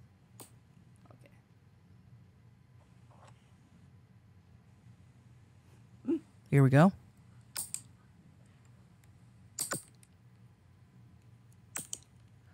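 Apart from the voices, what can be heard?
cutting toenails with clippers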